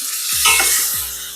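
Caribbean jerk pork tenderloin sears in a hot pan, a steady broadband sizzle with a few brief scraping or turning sounds over 1.4 seconds, close and moderately loud.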